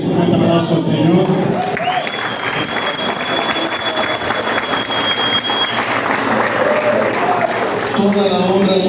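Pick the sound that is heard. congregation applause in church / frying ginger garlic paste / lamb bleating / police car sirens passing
congregation applause in church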